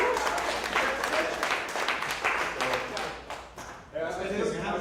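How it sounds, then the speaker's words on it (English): A room full of people at a conference session applauds, dense clapping sustained for several seconds, briefly dipping before swelling again. "Give yourself a round of applause."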